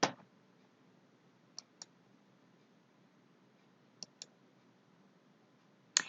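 A computer mouse gives faint, crisp clicks, mostly in close pairs spaced a couple of seconds apart, against a quiet room.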